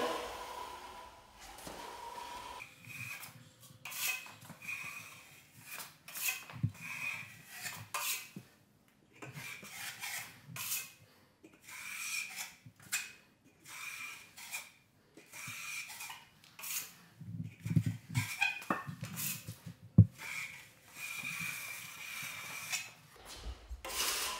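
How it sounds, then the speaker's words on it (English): Steel drywall trowel scraped clean of joint compound, with repeated rough rasping strokes against metal in an irregular rhythm, close and fairly quiet, with brief gaps between passes. "Clean off your trowel."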